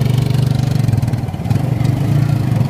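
A Suzuki Smash motorcycle, a small kapchai-style bike fitted with chopper handlebars, idles close by with a loud, steady low chugging pulse and a slight dip and swell in its revs.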